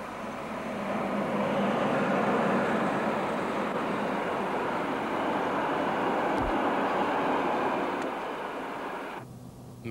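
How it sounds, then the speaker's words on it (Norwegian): A Norwegian NSB train rolls steadily along the rails, a loud continuous broadband rumble with a brief clank midway, holding for most of the stretch before the noise cuts off near the end. "Men togene fortsetter å rulle mens politikerne snakker."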